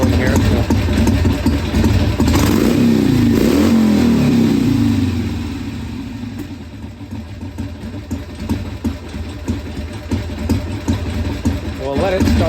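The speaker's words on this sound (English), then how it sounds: "I like them a little bit hotter on the idle." A 1981 Harley-Davidson Ironhead Sportster XLH engine revs loudly up close, then settles into a lumpy, uneven idle as it starts running low on fuel, with a voice talking over it.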